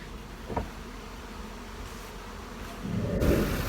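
Steady buzzing of many honeybees around hives hums continuously, with a louder swell toward the end as bees pass close by.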